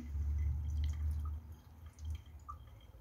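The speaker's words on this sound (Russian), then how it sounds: "Играет со струйкой воды." A thin stream of running water, played with by a cat, trickles and drips softly and steadily nearby, faint with no talk.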